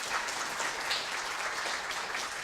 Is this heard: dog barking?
no